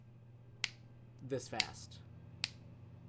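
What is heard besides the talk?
finger snapping to keep tempo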